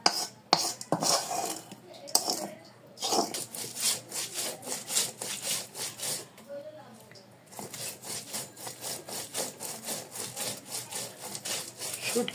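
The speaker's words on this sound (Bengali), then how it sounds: "শুটকিগুলোকেও পেঁয়াজ রসুন মরিচের সঙ্গে বেটে নেওয়া হচ্ছে।" Dried kachki and chela fish being ground on a stone with onion, garlic and chili: rhythmic rasping strokes back and forth, close and steady, with a few knocks at the start and brief pauses between runs.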